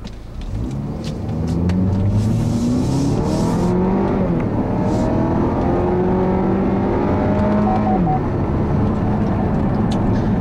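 A 2015 Buick Regal GS drives along a road, engine rising in pitch as it accelerates through gears, with steady tire and road rumble from inside the cabin.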